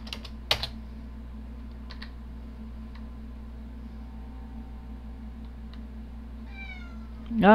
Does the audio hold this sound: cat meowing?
yes